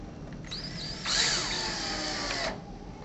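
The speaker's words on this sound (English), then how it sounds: "We can go ahead and install the bottom screw." Power drill driving a screw into a shutter hinge during a direct-mount shutter installation, a steady whirring burst of about two seconds that rises as the screw seats, heard alone and close.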